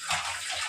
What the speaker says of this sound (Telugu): వాటర్ వేస్ట్ చేయకూడదు. ట్యాప్ బంద్ చేసి.